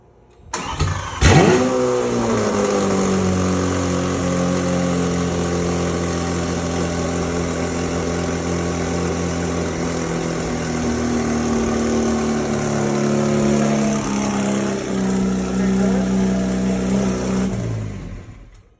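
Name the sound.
Lamborghini V12 engine cold start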